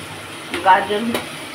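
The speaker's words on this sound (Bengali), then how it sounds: "এখন সবগুলো মিক্সড করে দিয়েছে, সব কিছু ভাজা ভাজা করছে।" Mixed vegetables with carrot and tomato paste sizzle steadily in a pan for oats poha, with two quick scrapes of a stirring spoon.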